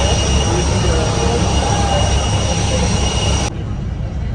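A jet aircraft at Varanasi airport gives a loud, steady broadband roar with a high whine, close by and unbroken, which drops abruptly in level near the end.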